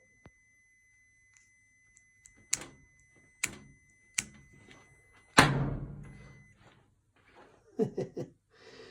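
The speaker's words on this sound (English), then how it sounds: "So shut the door." The door of a faulty Whirlpool washing machine that won't stop spinning is handled: a few sharp clicks and knocks, then one loud thudding shut midway, with more rattles afterward over a faint steady tone.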